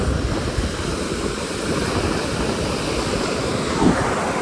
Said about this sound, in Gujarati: આજ તો દરિયો બહુ ઉતાન છે.